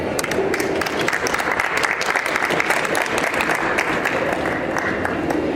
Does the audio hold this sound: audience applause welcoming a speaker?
yes